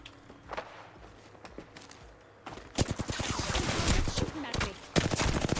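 Rapid bursts of video game gunfire crackle in a dense fusillade from a squad shooter, starting sparse and swelling into near-continuous automatic fire over shuffling footsteps, with a voice talking over the shooting.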